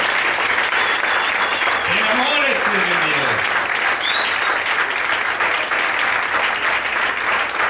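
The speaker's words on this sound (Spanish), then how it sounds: "Denle un aplauso entonces al Señor." A church congregation breaks into sustained, loud applause during a Spanish-language sermon. The clapping holds a dense, even wash throughout while the preacher's voice speaks briefly over it.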